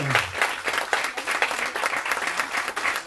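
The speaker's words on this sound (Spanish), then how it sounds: "Dale un fuerte aplauso a la palabra del Señor." A church congregation at a Sunday service gives a strong round of applause, dense and sustained clapping from many hands filling the whole stretch at steady loudness, with a faint voice near the start.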